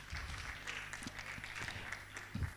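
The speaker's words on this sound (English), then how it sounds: "Please, a round of applause to them." At a business conference, a scattered audience gives a round of applause, heard faintly and at a distance, with low thumps and murmuring underneath.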